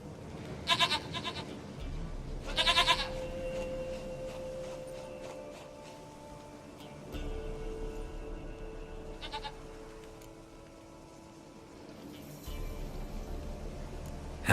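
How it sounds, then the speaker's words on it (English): Goat bleats in The Witcher 3 video game: two short, loud cries close together early on, then fainter calls spaced out over a low ambient hum, with no speech. "sweetest goat."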